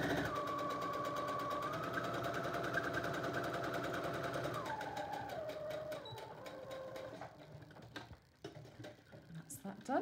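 A sewing machine runs steadily, stitching a fabric face mask straight over the pins, with a mechanical buzz that changes pitch a few times before slowing and stopping near the end; a voice talks faintly underneath.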